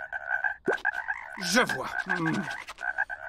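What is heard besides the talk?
frogs croaking in a cartoon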